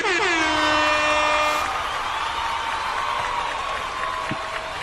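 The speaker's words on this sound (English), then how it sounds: "You gotta give him the fucking air horn for Milado." A loud air horn blares, swelling and fading as a sound effect, with crowd noise and cheering in the background.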